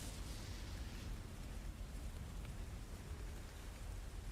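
Steady rain falling in a dense, even hiss with faint low rumbles beneath, constant and moderately quiet, with no voices.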